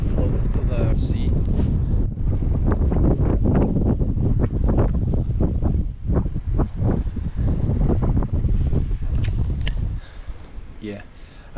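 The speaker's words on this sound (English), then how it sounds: "It's a little bit windy because it's very close to the sea." Strong wind buffets a campervan parked at a seaside campsite in Iceland, loud and continuous microphone roar with gusts, easing slightly near the end, while people talk throughout.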